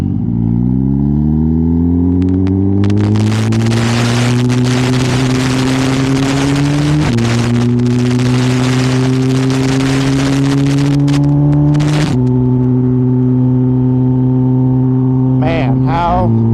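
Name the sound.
280 hp turbo Suzuki GSX-R motorcycle riding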